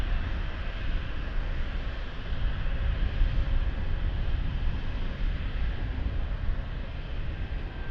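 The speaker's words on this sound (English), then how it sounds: "So next one to land, TAP coming in from Brussels. Airbus 320." TAP Airbus A320 landing at Lisbon airport, a continuous, fairly loud rumbling engine roar holding steady throughout, heard alone without voices.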